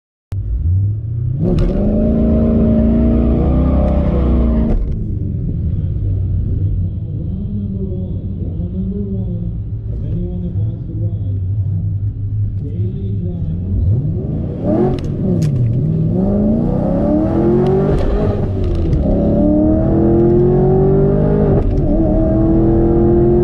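A supercharged Camaro and a big turbo Firebird drag racing, loud engines idling and rumbling before sharp revving launches that rise and fall in pitch, with more revving surges building toward the end.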